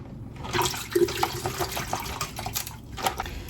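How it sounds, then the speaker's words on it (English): A short, close pour of vanilla extract splashing and trickling into a glass jar, with soft gurgles and a few light clinks. "I'm just gonna pour all of this in there, and I'm gonna pour the extract that's left in there"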